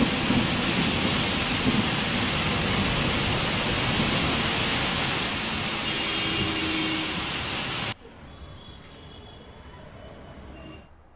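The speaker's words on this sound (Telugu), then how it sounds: "తెల్లవారుజాము నుంచే ఉరుములు మెరుపులతో కూడిన భారీ వర్షం కురుస్తుంది" Heavy rain pours in Vijayawada during a morning thunderstorm, a loud, dense, steady roar of broadband hiss that drops abruptly to a quieter wash of rainfall near the end; no distinct thunder claps stand out.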